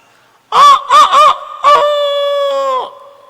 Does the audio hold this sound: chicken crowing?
yes